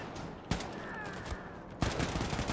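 Two dual-wielded assault rifles firing armor-piercing rounds in Wolfenstein II: The New Colossus let out two sharp, loud bursts of automatic fire, each a dense rattle heard up close.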